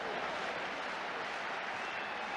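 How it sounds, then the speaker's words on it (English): St Johnstone supporters applaud in a football stadium during a 1989–90 match against Airdrie, a steady wash of distant crowd clapping with no pauses. "Generous applause from the St Johnstone supporters."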